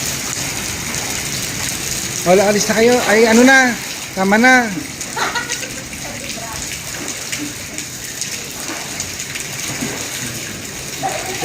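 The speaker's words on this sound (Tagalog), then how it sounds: "Lumalakas na naman yung ulan." Heavy rain pours on Isla Bonita, an island in stormy, windy weather, a dense steady hiss of drops on surfaces throughout, with people talking briefly over it.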